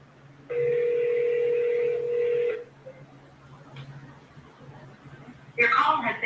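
A phone call being placed gives a steady electronic ringback tone for about two seconds, followed by quiet line noise. A person then starts talking near the end.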